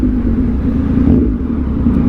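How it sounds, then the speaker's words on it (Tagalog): A motorcycle downshifts smoothly on Davao City Diversion Road, its engine a loud, steady close-up rumble with a slight rise and fall in pitch and no talking over it. "napaka-smooth ng kanyang downshift"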